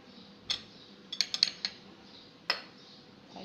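Rice flour batter being mixed with cumin and salt in a bowl gives a few close, sharp clinks of a spoon or utensil against the dish, spaced irregularly over a quiet background with no talking.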